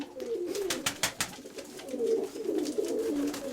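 Pigeons coo in low, rolling calls close by, repeating throughout alongside several sharp taps and flutters.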